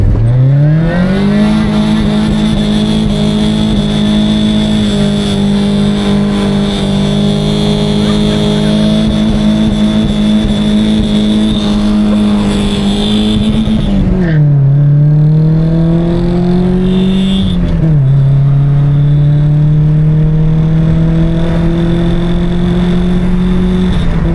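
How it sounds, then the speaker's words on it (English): A Nissan S14's engine holds a loud, steady high-revving drone while cruising alongside a 350Z, pitch dipping sharply around the middle and again shortly after before settling back into a sustained roar. "I hear engine noises."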